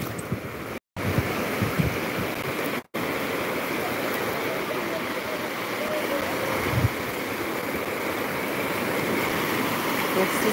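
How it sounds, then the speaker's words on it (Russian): Steady broadband rush of sea surf rolling in and washing over the shore at Odesa, continuous and fairly loud, with a brief dropout early on. "Красивая волна идет"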